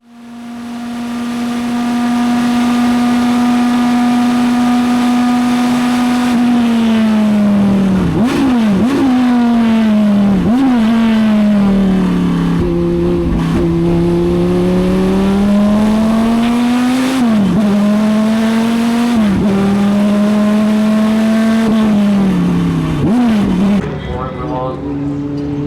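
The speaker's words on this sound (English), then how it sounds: "Viper GTS-R." A Dodge Viper GTS-R race car at Daytona holds a loud, steady engine drone that climbs and drops through repeated gear shifts, its pitch swooping at each change, before fading out near the end.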